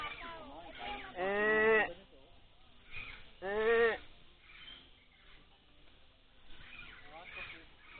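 Two loud, close goat bleats ring out a couple of seconds apart at an animal sanctuary in Tagaytay Highlands, with quieter voices and background noise between them.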